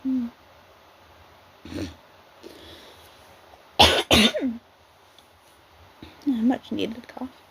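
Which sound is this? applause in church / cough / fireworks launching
cough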